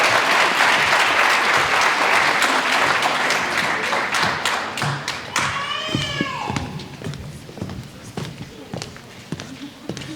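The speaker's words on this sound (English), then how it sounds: "can we please give a round of applause to our winners today" A crowd at a community event honoring Dr. Martin Luther King applauds its winners, loud and full at first, then thinning to scattered claps and a few whoops before fading under a voice.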